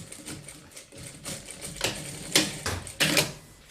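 A sewing machine runs in short rhythmic bursts, stitching the layered fabric of a crossbody bag, its needle chatter close and steady with brief pauses between runs.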